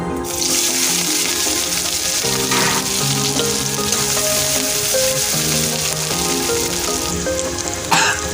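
Finely chopped green chili and crushed ginger fry loudly in hot oil for a vegetable chop filling, a dense, steady crackling sizzle with faint stirring and a tap near the end.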